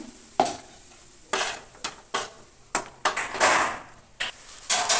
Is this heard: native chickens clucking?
no